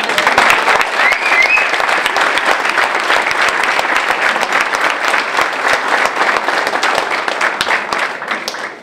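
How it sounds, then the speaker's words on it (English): Audience applause at a New Jersey gathering of business, government, religious and education leaders, loud dense clapping that runs steadily throughout and tapers slightly at the end. "Now you can clap."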